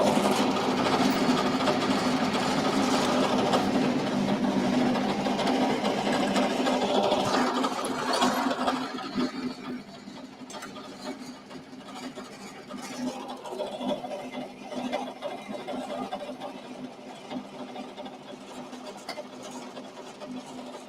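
A milling machine cuts metal with an end mill in a home shed, a dense steady grinding whir for about eight seconds that then drops to a quieter running hum with scattered chatter and clicks.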